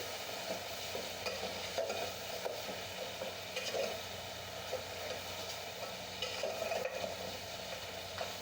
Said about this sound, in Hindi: अब गोश्त को अच्छी तरह फ्राई कर लेंगे।